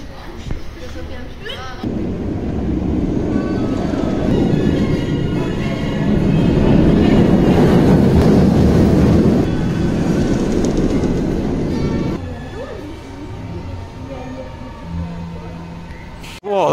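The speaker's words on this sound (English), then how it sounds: "they're sending out a train to test it again." An empty Lech Coaster roller coaster train makes a test run at Legendia in Poland, a loud sustained rumbling roar that swells, peaks in the middle and then fades away, with some voices around it.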